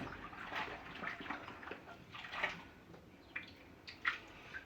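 A dish is rinsed under running water after washing with Fairy dish soap, a quiet splashing and trickling with a few sharper splashes and drips, heard without talk.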